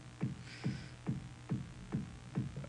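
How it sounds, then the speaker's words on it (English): A steady four-on-the-floor kick drum in FL Studio, six evenly spaced low thumps at a brisk tempo, fairly quiet and with no other instruments. "it's just a 4 on the floor kick"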